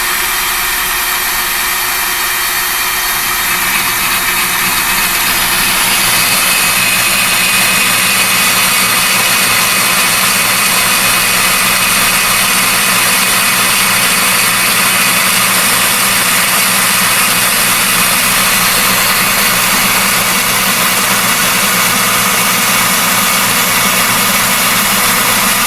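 A Ryobi portable bandsaw runs and cuts, a loud, close, continuous whirring drone with a steady hiss that holds evenly throughout, shifting slightly in tone early on as the blade engages.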